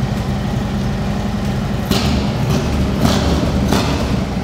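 A custom Harley-Davidson Lowrider S idles loud and close, its engine fully open through a Jekill & Hyde exhaust, with a deep, heavy, steady rumble and a few throaty surges.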